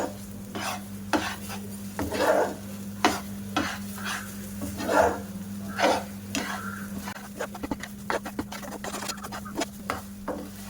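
A sweet mixture of bread and powder cooks in ghee in a frying pan, with a soft sizzle under repeated rhythmic scraping and stirring strokes of a spatula, close up, with a low steady hum behind.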